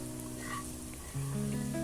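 A hot tempering is poured into buttermilk rasam and gives a brief, fairly quiet sizzle over a steady tonal background, growing slightly louder toward the end.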